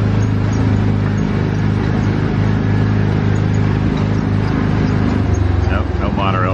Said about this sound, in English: Oh, I hear the monorail.